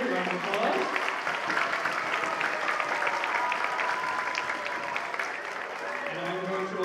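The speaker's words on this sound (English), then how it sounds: "Round of applause." Steady applause from a school assembly audience at a Veterans Day celebration, dense and sustained throughout at moderate distance, with some voices mixed in under the clapping.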